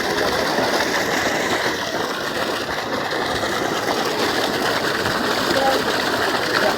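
A power motor pump gushes water in a strong, steady roar and splatter, loud and close throughout with a constant mechanical drone underneath.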